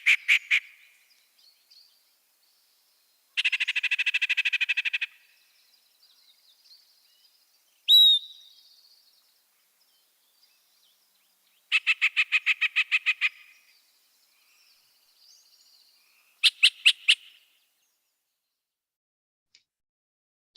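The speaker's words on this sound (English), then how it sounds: "If you get that feeling and you're out looking for birds, you have the yellow-breasted chat" A yellow-breasted chat sings a varied series of isolated phrases separated by silence: rapid buzzy rattles, a sharp whistled note, and quick repeated chatters, clear and fairly close.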